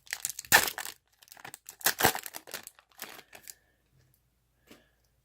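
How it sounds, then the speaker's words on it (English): Football card pack wrapper from a 2015 Topps Chrome Football mega box being torn open, with two loud bursts of crinkling and tearing followed by smaller rustles and then near quiet. "We're going to open the 10 anniversary rookie cards."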